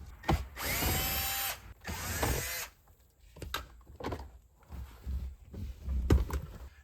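A power drill backs Phillips head screws out of interior trim on a Lexus during heater core replacement, two loud whirring spins up close, then quieter clicks and handling knocks.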